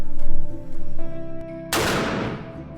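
A single loud gunshot cracks sharply after a short stretch of low background hum, its broadband blast decaying over the following second.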